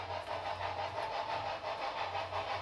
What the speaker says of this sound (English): it's a really nice little model, has great chuffing noises